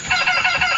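Chickens cluck in a quick, busy burst while being fed, several birds close by and fairly loud, with no talking.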